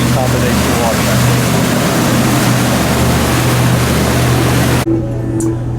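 A 2004 Rinker Fiesta Vee 342 motorboat cruises across open water, its steady engine drone and rushing wash filling the air loud and constant before cutting abruptly to a quieter interior.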